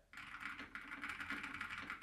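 Fast, steady typing on a dampened 60% mechanical keyboard with Cherry MX Red switches, a close stream of soft clacks with no talk.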